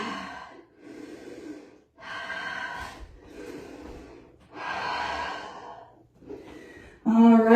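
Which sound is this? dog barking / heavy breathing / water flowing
heavy breathing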